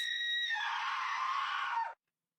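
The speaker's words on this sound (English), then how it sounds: "What the frick was that scream?" A single drawn-out scream from the horror video game Room 307, shrill and sustained for nearly two seconds before cutting off abruptly into silence.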